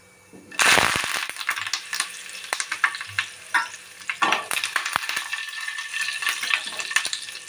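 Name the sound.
curry leaves added to hot oil, sizzling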